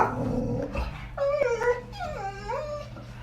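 Dogs react excitedly to dog television with a low rumbling growl, then rising and falling whines and howl-like whimpers, close and fairly loud against a quiet background hum.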